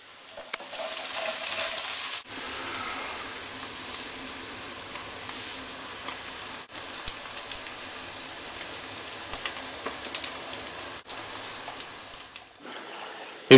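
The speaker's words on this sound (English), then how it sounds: "Just keep stirring." Shanghai street-style fried rice with vegetables sizzles and hisses steadily in a pan as it is stir-fried, a continuous dense frying noise broken by a few sharp scrapes or clacks of the utensil.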